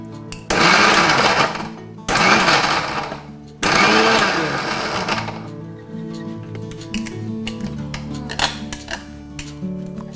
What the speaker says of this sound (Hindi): तो ये आम डाल दिए मिक्सी में